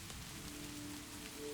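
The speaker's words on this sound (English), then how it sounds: "The rain has become the clearest sound, soft, steady, unchanging" Soft, steady rain falls outside a cabin in a continuous gentle hiss of drops, faint and unchanging, with no voices.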